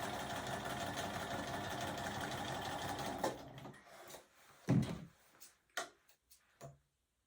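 A sewing machine stitches a half log cabin quilt piece, running steadily at a fast whirring clip for about three seconds, then stopping, leaving a few faint clicks and handling taps.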